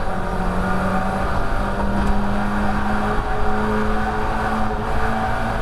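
A Mazda MX5 race car drives at Croft circuit, its engine a loud, continuous droning whine heard from close by, holding a steady pitch with slight rises and falls.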